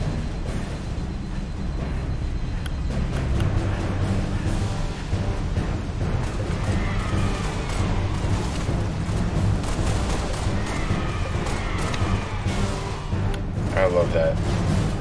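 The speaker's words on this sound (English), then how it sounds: "Grenades!" Grenades burst during a Halo Reach match as a rolling series of booms and gunfire, with a dense, steady rumble running under the game's noise. Voices are heard, though the shouting that names the grenades falls outside this stretch.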